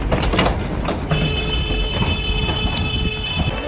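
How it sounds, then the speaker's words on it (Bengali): A train passes close by with a loud, steady rumble of rolling wheels, thin metallic squealing tones running through it and no voices. "ও কি ট্রেন!"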